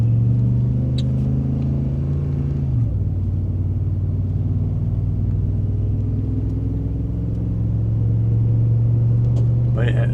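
A truck loaded with firewood drives by with a loud steady engine rumble that shifts pitch partway through, while someone talks over it.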